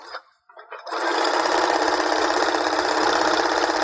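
Sewing machine stitching fabric for DIY cheer or dance shorts, starting after a brief pause and then holding a loud, close, steady rapid whir.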